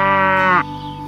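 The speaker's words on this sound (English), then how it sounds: "Listen to the cow going." A single loud, drawn-out bleating moo from a nearby cow, lasting about half a second before trailing off.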